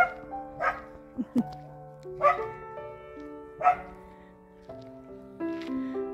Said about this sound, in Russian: у вас Гавкает собачка